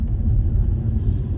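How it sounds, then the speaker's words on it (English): Engine of a 2023 Seat Leon plug-in hybrid accelerating in sports mode on a dual carriageway, a steady low rumble heard from inside the car with no talk. "Can we hear the engine?"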